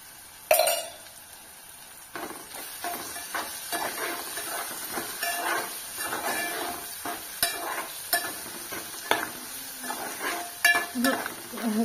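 Small bitter gourds fry in a pan with a hissing sizzle, stirred by a utensil that scrapes and clatters in repeated strokes after a sharp opening knock.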